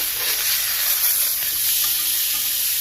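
Steak sizzles steadily in a hot pan with butter, thyme and rosemary just after being flipped, a loud, continuous, crackling hiss with no talking.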